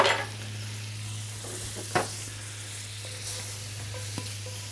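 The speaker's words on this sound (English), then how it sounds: "I'll put in a couple tabs of butter." Butter sizzles steadily in a hot Lodge cast iron skillet, a constant crackling hiss with a low hum underneath and a few sharp scrape clicks as it is stirred around.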